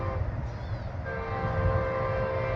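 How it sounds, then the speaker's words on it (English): A CSX westbound freight train rumbles steadily nearby, its low drone joined by a sustained, tonal horn blast that holds through the second half. "we're going to get a westbound train"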